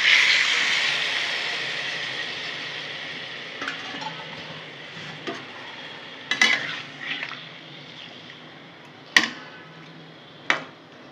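Mustard-marinated hilsa fish seasoned with salt and turmeric drops into hot oil: a loud hiss bursts up at once and gradually fades to a soft sizzle, punctuated by a few sharp clinks of a utensil against the pan.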